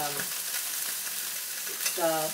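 Date-stuffed tenderloin sears in a hot pan with a steady broadband sizzle throughout, plus a few faint scrapes and a brief tonal squeak near the end.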